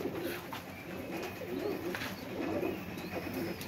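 Pigeons in a rustic loft cooing steadily for several seconds, soft layered coos close by with faint chirps and background ambience, no talking.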